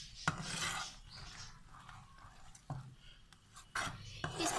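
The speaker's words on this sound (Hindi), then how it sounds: "इसमें मुसलसल हमने इस चम्मच हिलाते रहना है और इसे हम हल्की आग पे 10 मिनट तक पकाएंगे" A spoon scraping and stirring melted, bubbling jaggery in a pan over low heat for peanut gachak, making soft intermittent rasping strokes with a few sharper clinks against the metal, fairly quiet and close.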